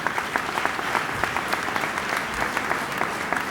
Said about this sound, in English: So you guys should give yourself a round of applause